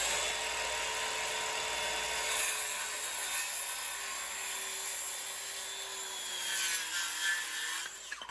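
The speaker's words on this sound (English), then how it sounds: "When you drive a screw through two pieces of wood without a pilot hole, it almost always pushes them apart" A power drill drives a screw through two pieces of wood during a garage-to-apartment conversion, giving a steady high whine that runs unbroken for several seconds before stopping, loud and close with no talking.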